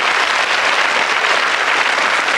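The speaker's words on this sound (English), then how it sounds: "Round of applause, please." A studio audience at the 1992 ITV game show Cluedo gives a loud, dense round of applause that holds steady throughout.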